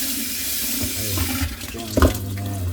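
Hot tap water pours steadily into a sink while an old flower vase is rinsed, a close, continuous rushing splash with a brief louder burst of sloshing partway through.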